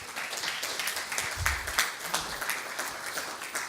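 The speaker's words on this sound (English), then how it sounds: "Let's give her a round of applause." Audience applause for Dr. Deborah Budd at a Berkeley City College conference, a steady wash of clapping from a crowd held at moderate level for a few seconds.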